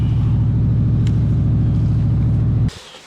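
A 1965 Ford Galaxie 500 hardtop V8 fitted with a cam idles loud and close, a steady lumpy rumble that cuts off abruptly near the end.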